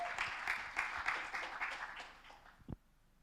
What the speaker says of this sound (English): big round of applause to all the teams this afternoon